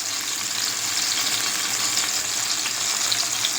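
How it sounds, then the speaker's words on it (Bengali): Fish frying in mustard oil over a low flame, a continuous close sizzle with a soft steady crackle throughout, no voices. "চুলাটা ডিম করে দিয়ে মাছটা ফ্রাই করতে হবে।"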